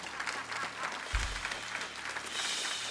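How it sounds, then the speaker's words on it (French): Steady applause from a church congregation during a sermon, continuous clapping at moderate volume for a few seconds with a low thump partway through. "Quand vous applaudissez, vous pouvez le faire pour du vrai."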